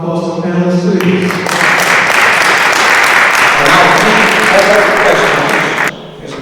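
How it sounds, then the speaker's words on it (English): Audience at a panel discussion applauds the panelists, a sustained burst of clapping lasting several seconds before cutting off, with a speaking voice just before it starts. "Round of applause to the panelists, please."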